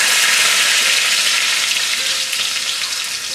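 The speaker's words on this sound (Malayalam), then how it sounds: "കടുക് പൊട്ടിക്കഴിയുമ്പോൾ നമുക്കിതിലേക്ക് ചെറിയ ഉള്ളി അരിഞ്ഞത് ഇട്ട് കൊടുക്കാം." Chopped shallots frying in hot oil with mustard seeds for a coconut-milk mackerel curry: a loud, dense, continuous sizzle heard up close that eases slightly toward the end, with no voices.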